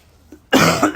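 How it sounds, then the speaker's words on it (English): A single harsh cough from someone fighting a cold bursts out loud and close after a near-silent moment, with a short rough tail. "so if you hear me coughing in the video, I apologize"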